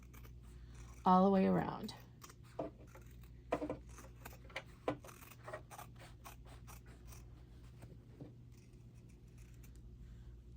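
Scissors trimming fabric about a quarter inch around an embroidered wallet made in the hoop of an embroidery machine, a short loud snipping burst followed by scattered quieter cuts and handling clicks, with a voice talking over it.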